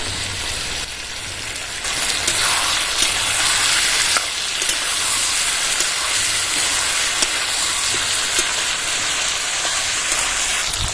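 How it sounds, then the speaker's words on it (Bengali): Spice paste poured into a pan of frying squash and potatoes sets off a loud, close, dense sizzle that swells after the first couple of seconds and hisses steadily with no talk. "পেস্ট করা মশলাটা এবার ঢেলে দেবো"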